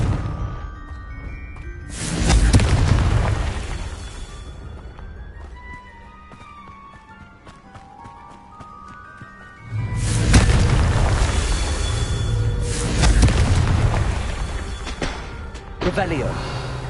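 Two heavy booming blasts from the Confringo spell erupt in Hogwarts Legacy gameplay, each a loud rumbling burst lasting a few seconds. Chiming game effects and clattering fill the stretch between them.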